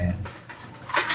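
A racing pigeon, a fifth-place finisher in a three-lap fun race, gives a soft, low cooing close by while someone talks over it.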